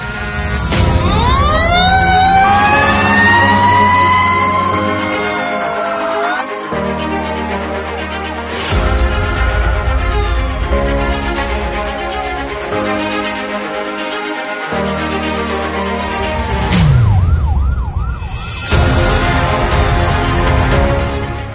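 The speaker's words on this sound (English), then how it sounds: "unveiled 62 brand new fire apparatus consisting of fire trucks and support vehicles in a bid to tackle fire emergencies in the state" Wailing sirens from new Lagos State fire service trucks and support vehicles, several overlapping tones sweeping up and down, loud and close, with short breaks and a fast yelp near the end, no talk.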